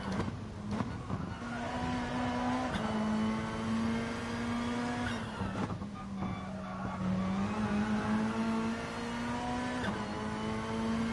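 GR3 EVO race car on the Brands Hatch circuit in a racing game, with a steady droning engine note that sags and rises as the driver brakes, lifts off and gets back on the throttle, and no talk over it.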